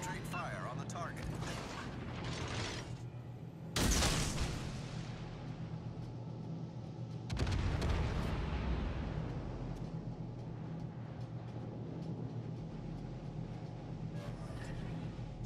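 Destroyer guns in a naval combat game firing in two heavy booming salvos, each trailing into a rumbling roar over continuous engine and battle noise.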